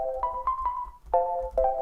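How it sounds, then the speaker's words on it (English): Short, bright synth plucks play a simple melodic pattern, each note starting with a quick attack and ringing briefly before the next. "we've got this one little synth picked out, which sounds like this"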